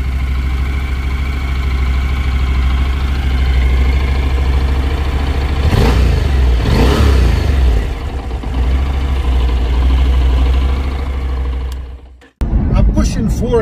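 Parallel twin engine of a beginner commuter motorcycle idling close by, a steady low throbbing rumble with brief revs in the middle, cutting out near the end before restarting, with someone talking over it.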